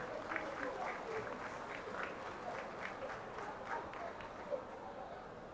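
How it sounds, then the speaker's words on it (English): Audience applause for graduates at a certificate ceremony, a faint, steady wash of many hands clapping from a distance, with a voice faintly present under it. "So give yourself a big round of applause."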